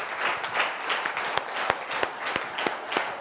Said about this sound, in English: let the claps go on